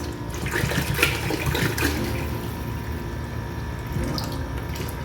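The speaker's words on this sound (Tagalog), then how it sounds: "lagyan na natin siya ng tubig" Water pours and splashes steadily into a cooking pot for pancit, a continuous gushing flow with no one speaking.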